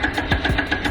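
A Honda Grom motorcycle engine revving under throttle, a close, buzzy mid-pitched drone with rhythmic pulsing that rises briefly in pitch.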